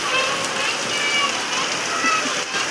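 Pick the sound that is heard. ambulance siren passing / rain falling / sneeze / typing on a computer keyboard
rain falling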